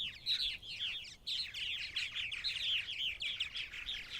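Purple martins on eastern Long Island, New York chirp and warble continuously in a busy, overlapping chorus of bright twittering calls, fairly close and steady throughout with no talking.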